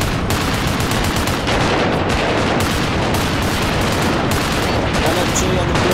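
A light machine gun fires in ARMA Reforger during a Mogadishu street battle. Dense, sustained automatic bursts come loud and close, mixing with other gunfire and rumbling booms throughout, with brief pauses between volleys.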